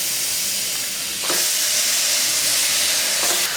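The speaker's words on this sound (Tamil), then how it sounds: "மசாலில் மட்டனை போட்டு உடனே மூடி வச்சிடாம கொஞ்சம் ஒரு நிமிஷமோ 2 நிமிஷமோ நல்லா பெரட்டி விட்டுட்டு" Mutton hits hot spice masala in the pan and fries with a loud, steady hiss and sizzle that swells partway through, with faint stirring scrapes close by.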